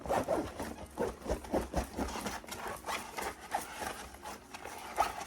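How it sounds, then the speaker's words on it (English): Backpacks and bags are zipped up in a lecture setting, with repeated short zipper pulls in an irregular series, close and fairly quiet, with no voices. "zip up all of your bags"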